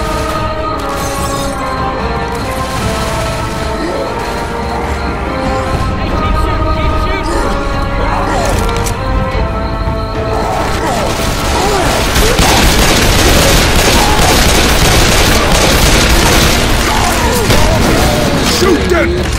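Grenade launcher blasts and gunfire in the zombie shooter Left 4 Dead 2, loud booms and crashes under a dense music and game-audio bed, heavier toward the end, with voices talking.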